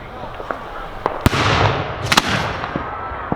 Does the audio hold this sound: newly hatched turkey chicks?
no